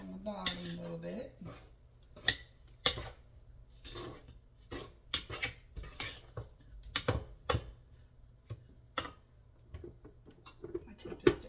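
Chocolate chip cookie dough being stirred in a bowl, with irregular scraping knocks and clinks of the utensil against the bowl, fairly quiet and close, no talking.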